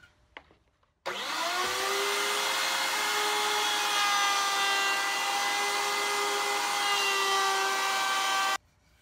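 A straight cutting bit on a router table routes a groove in wood: a loud, steady high-pitched whine with strong harmonics that starts abruptly, holds for about seven seconds, and cuts off sharply, with no talk.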